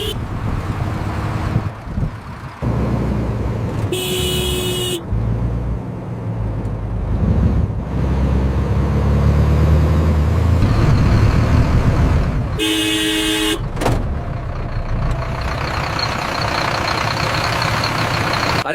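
Car horns honk in short tonal blasts amid stopped traffic in an Indian traffic jam, two loud toots heard over the steady rumble and wind noise of vehicles.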